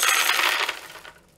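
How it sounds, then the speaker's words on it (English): A hundred marked sweets are poured into a box in one loud, dense rattling cascade that tapers off as the last pieces settle, with no talking. "Next, the sweets are poured into the box."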